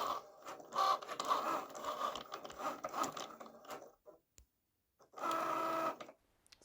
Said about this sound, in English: So I use my Cricut to make the labels. I'm using cheap vinyl I got on Amazon